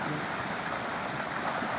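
Creek water rushes steadily along the Ouachita Trail near Winding Stair Campground, a continuous, fairly loud broadband wash with no voices.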